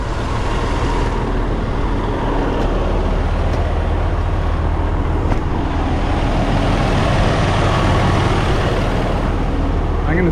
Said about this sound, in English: I want you to hear the engine running.